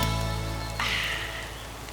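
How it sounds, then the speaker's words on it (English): Rain falls as a steady wash of hiss with a sudden louder burst partway through, heard alone and fairly close in a short stretch. "We finally made some rain!"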